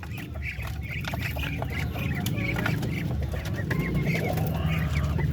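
A pen of roughly two-month-old ducks of a large Filipino breed gives off a constant, close chorus of quacking and clucking that fills the whole stretch without pause.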